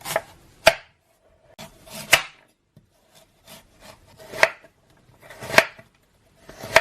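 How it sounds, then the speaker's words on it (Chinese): A knife cuts radish into long strips on a board, making sharp, close chops at an uneven pace with quiet gaps between them. "萝卜切成这样的长条"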